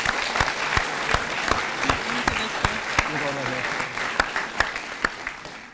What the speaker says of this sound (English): Let's have one more round of applause for Ms.